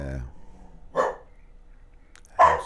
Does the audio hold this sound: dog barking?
yes